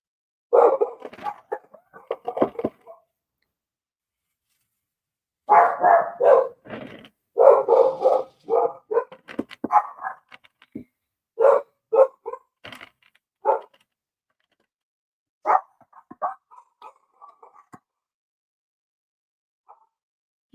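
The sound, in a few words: dogs barking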